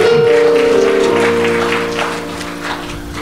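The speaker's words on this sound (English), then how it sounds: "Come on, let's give the Lord another hand clap of praise." Congregation at a funeral service claps hands in praise over sustained organ chords, clapping fairly close and rhythmic at first, then thinning as the music fades.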